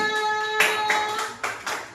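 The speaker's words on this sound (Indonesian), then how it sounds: "Tepuk tangan untuk kelompok 3" A primary school class claps for a student group: a few brief bursts of hand clapping from several pupils over about two seconds, with a steady tonal hum running beneath.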